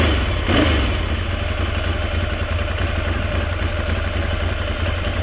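A motorcycle engine runs loudly up close, with one quick rev blip near the start before holding a steady, throbbing idle.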